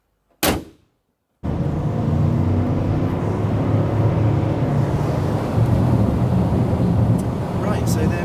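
A Mercedes W164 ML450 CDi 4MATIC on a road test after a DIY service, with a sharp knock near the start, a second of silence, then steady broadband road, engine and wind rumble from inside the car.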